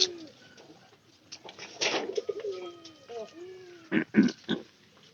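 Soft cooing of Nangra pigeons with low throaty calls, a few louder bursts near the end, and faint background chatter.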